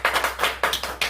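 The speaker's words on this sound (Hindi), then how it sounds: "एक बार ताली बजाइए।" A quick run of sharp hand claps or taps, about five or six crisp, separate strikes in just over a second, close and fairly loud with short gaps between them.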